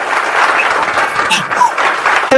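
Audience applause at a Telugu motivational gathering honoring a leader, steady dense clapping throughout at close range, with a faint voice mixed in.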